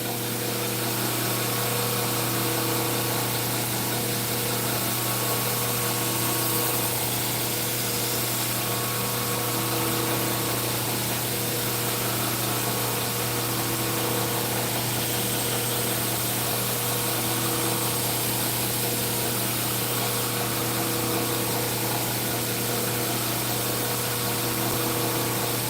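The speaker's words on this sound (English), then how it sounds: "You can see I'm putting the secondary bevel on it." A power tool grinds a secondary bevel onto a knife blade, giving a loud, steady, continuous whine with a constant hum and no breaks or talking.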